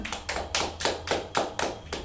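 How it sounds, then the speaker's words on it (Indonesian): Classmates in a primary school microteaching lesson clap their hands in applause, a steady run of about eight to nine sharp, evenly spaced claps over two seconds, fairly close, with no talking. "beri tepuk tangan teman-teman"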